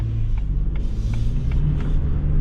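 Inside a 2021 Ford Expedition with a turbocharged V6 while driving, a steady low engine drone and road rumble fill the cabin, with faint ticking clicks recurring at an even pace under the hum.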